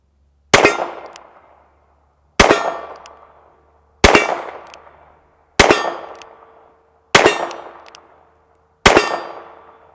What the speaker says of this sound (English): You guys get a good look at this thing from up close firing.